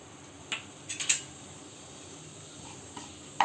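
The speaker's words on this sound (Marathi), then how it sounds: "इकडे मी एक पॅन घेतला आहे त्याच्यामध्ये दोन चमचे तेल गरम करायला ठेवलं आहे त्याच्यामध्ये आपण आता मोहरी घालून घेऊ मग जिरं" Mustard seeds and cumin sizzle faintly in two spoons of hot oil in a pan, a soft steady hiss broken by a few sharp utensil clinks against the pan.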